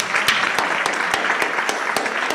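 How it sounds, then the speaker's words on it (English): A round of applause from the audience at an International Women's Day event, steady dense clapping with distinct sharp claps throughout, fairly loud and close. "I think Dr. Futhi deserves another round of applause."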